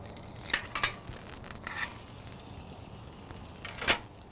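A dry-aged ribeye sizzles on a grill grate over a wood fire, a faint, close crackle of frying with a few sharp pops and spits scattered through, no talk.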